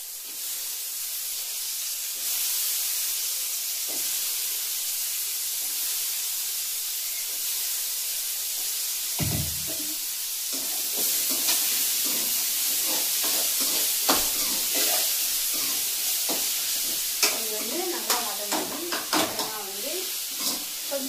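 Brinjal frying with tomatoes in a pan hisses with a steady, close sizzle, broken by occasional stirring scrapes and louder spits of steam.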